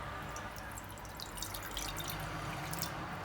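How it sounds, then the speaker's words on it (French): Water running and splashing into a frying pan on a kitchen stove, a steady close pouring and trickling sound with faint drips throughout, no voices. "Je vais rajouter de l'eau dans la poêle."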